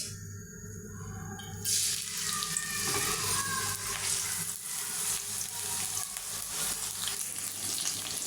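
Onions hit hot oil and fish fat in a wok for a fish roe dish, starting quiet and then bursting into a loud, steady, close sizzle that holds for several seconds.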